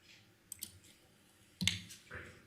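Arrow keys on a computer keyboard are pressed a few times, making sparse, quiet clicks in a quiet room. A firmer, louder click comes near the end.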